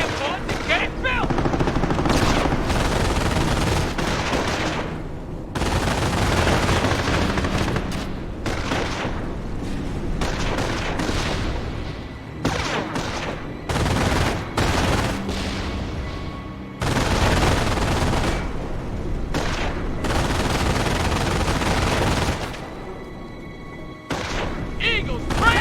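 Intense gunfire in Company of Heroes, with machine-gun bursts, single shots and booming blasts rolling one after another at close range, while soldiers shout over the battle.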